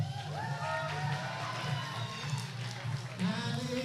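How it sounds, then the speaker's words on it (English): A crowd at a youth finals podium ceremony cheers and shouts for the winner, a busy, moderately distant wash of voices and whoops sustained throughout at fairly low level. "Ladies and gentlemen, let's have a big cheer please for Indigo."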